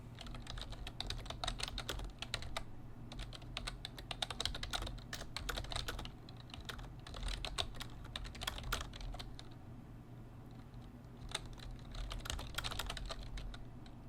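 Steady, close typing on a computer keyboard, with rapid key clicks in bursts and short pauses, no voices.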